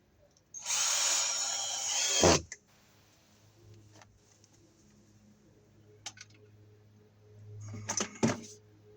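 A power drill drives a screw to fasten an outdoor outlet to a wall, a close whirring burst of about two seconds, followed by quiet and a couple of shorter, fainter bursts near the end.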